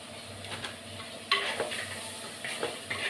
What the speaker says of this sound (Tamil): எல்லாம் நல்லா வதங்கட்டும்.